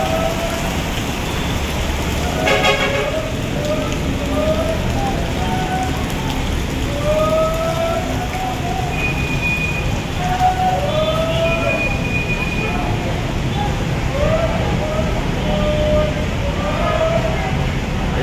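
Heavy rain pours down steadily in a dense, continuous hiss, with chirping birds and faint, occasional sounds scattered over it and no talk.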